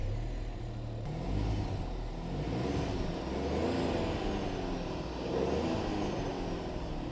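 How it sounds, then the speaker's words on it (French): A Seat Ibiza FR's three-cylinder Volkswagen engine runs with the hood open, a low, steady engine hum that swells slightly now and then, heard from close by with no talking. "c'est un bon moteur qu'on va aller écouter de ce pas"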